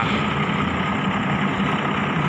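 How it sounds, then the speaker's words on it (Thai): The diesel engine of express train 109, running from Bangkok Aphiwat to Chiang Mai, accelerates toward Chum Saeng station. It makes a loud, continuous low rumble with no talk. "109กำลังเร่งเครื่องมาฮะ"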